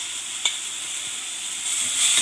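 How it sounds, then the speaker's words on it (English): Garlic, ginger and spring onion fry in a pan, giving a steady hiss and sizzle with a few small pops, close and alone, growing slightly louder toward the end. "I'll just fry it slightly and remove the raw smell."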